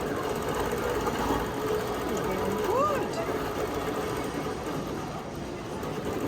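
A quilting machine stitching fabric at a craft and quilt fair, running as a steady, fast mechanical whir under ongoing conversation, with a brief squeak partway through.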